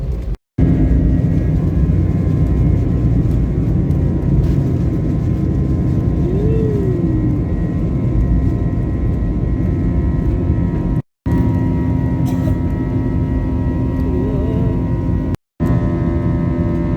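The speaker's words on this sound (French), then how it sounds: "ils viennent d'annoncer le décollage" Airliner taking off from Isla Verde, Puerto Rico, bound for Fort Lauderdale, heard from inside the cabin as a loud, steady engine roar and rumble that runs the whole time and is broken by a few brief dropouts.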